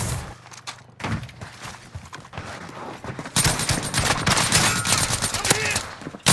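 Dense machine gun fire and overlapping bursts from a Call of Duty Rebirth Island match, sparse shots at first, then a loud sustained fusillade in the second half, with voices faintly underneath.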